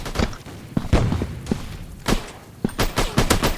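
Shotgun blasts in a first-person shooter video game, a rapid series of loud, sharp booming shots with short gaps between them, close and punchy with no talking.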